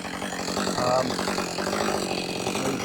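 A chainsaw trims the spikes off a felled, dying ash tree, its engine snarling loud and steady at close range without a break.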